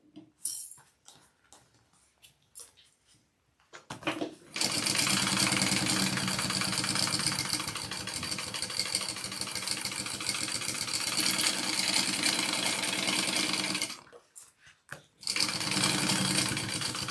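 A sewing machine bastes an AnnaBelle shoulder bag. After a few scattered clicks and taps it runs fast and loud in a continuous close whir, pauses briefly, then starts up again.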